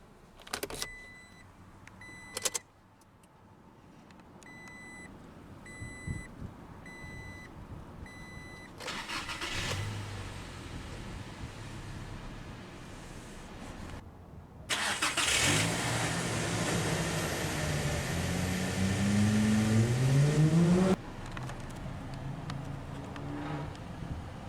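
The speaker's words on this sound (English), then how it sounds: "Now that we're behind the wheel, let's go ahead and start the engine." A 2019 Toyota Tacoma SR Access Cab 4WD with the four-cylinder engine: door chimes and cabin clicks, then the starter cranks and the engine catches with a rev flare before settling into a steady, close idle.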